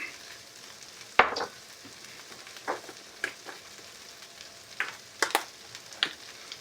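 Butter and garlic frying in a pan, a soft steady sizzle under scattered sharp clicks and scrapes of a utensil, with no one talking.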